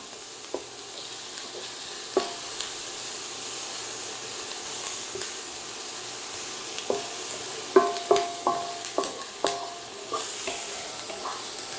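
Onions stir-fried in a wok for japchae give a steady sizzle under a series of sharp spatula scrapes and clacks that speed up into a quick run of strokes, close and moderately loud.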